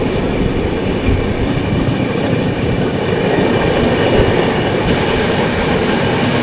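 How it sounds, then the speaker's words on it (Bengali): The Mithila Express speeds along at full pace after leaving Muzaffarpur, making a loud, continuous rumble with steady wheel clatter heard from inside the carriage. "মুজাফ্ফরপুর ছাড়ার পরে ট্রেন সর্বোচ্চ গতি বেগে চলছে"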